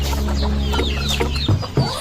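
Chickens cluck nearby at a bird-keeper's pen, a few sharp clucks rising over a steady low background hum, with no voices.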